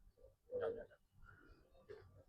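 A small-beaked, soft-bodied pigeon with green eyes gives a soft, brief, low coo up close, with faint background rustle.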